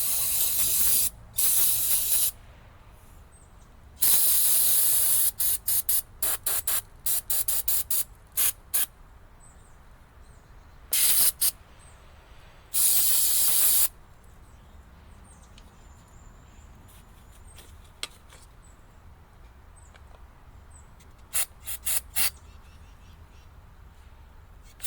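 Cleaner sprays onto a dirty carburetor in a series of sharp hissing bursts, some long and some quick, separated by quiet gaps.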